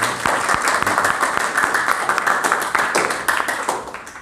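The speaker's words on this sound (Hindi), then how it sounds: "सारे जोरदार तालियां एक बार" A room full of people gives loud, sustained applause, a dense wash of many hands clapping close by for several seconds, with faint voices mixed in.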